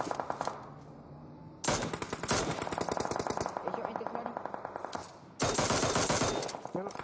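Rapid automatic gunfire from PUBG Mobile, a Mini14 rifle among the weapons, rattling in dense bursts with brief pauses, loud and close, while a player's voice talks over parts of it.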